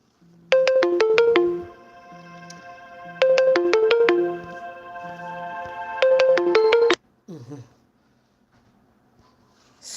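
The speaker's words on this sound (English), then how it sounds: "have an alarm that is ringing here" Electronic alarm chiming a repeated bright melodic phrase in three loud bursts, followed by a short thud and near silence, close and clear.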